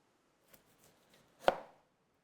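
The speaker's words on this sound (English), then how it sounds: "And then we're going to cut off the top." A knife cuts off the top of a fruit with one crisp thud on a board, preceded by a few faint light taps, all quiet and close.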